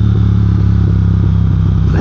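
A Triumph Speed Twin motorcycle engine pulls hard on the road in second gear, a loud, steady, throbbing twin-cylinder drone close by that rises slightly toward the end, with no talking.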